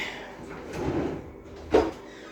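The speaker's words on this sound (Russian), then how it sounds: "Покажу вам ящики." A drawer in a handleless chipboard kitchen cabinet slides open with a soft rush that ends in a brief thud. A faint voice murmurs before it.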